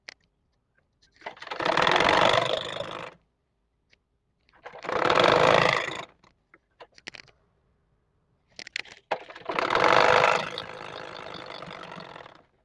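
A sewing machine stitches turban cap fabric in three separate close, loud runs of a few seconds each, with quiet handling pauses between them and no talking.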